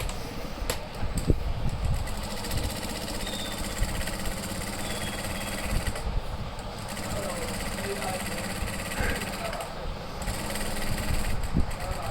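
A sewing machine runs steadily for a long stretch doing a triple stitch on a shirt, a close, continuous mechanical whir and rapid needle clatter with a few brief pauses.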